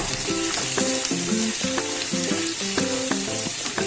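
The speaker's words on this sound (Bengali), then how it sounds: "পেঁয়াজটা এবার ভাজা ভাজা হবে, একদম কিন্তু খুব লাল করে ভাজবো না।" About 400 grams of onions frying in a pan for chicken masala, giving a loud, continuous sizzle throughout with tonal sounds layered over it and no speech.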